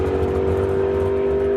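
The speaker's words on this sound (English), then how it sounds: "Barry Checklock, the RX-7, taking on Glenn Martin in his 72 Vega." A drag race launch pits a Mazda RX-7 against a 1972 Chevrolet Vega, with a loud, steady engine drone and a strong sustained tone held throughout the brief moment, no voices present.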